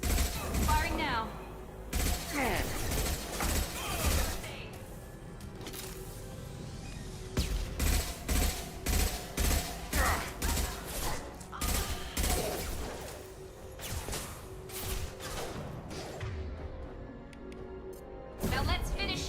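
Rapid gunfire from Mass Effect 2 Legendary Edition during a campaign fight, with dense bursts and volleys cracking repeatedly across nearly twenty seconds amid mechanical clatter, while a player talks intermittently over the shooting.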